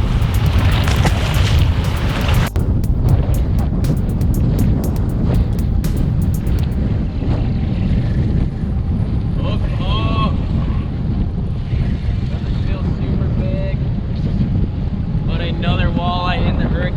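Strong wind on a lake while fishing for walleye from a boat, loud buffeting gusts roaring across the microphone throughout, with voices talking intermittently beneath the rumble.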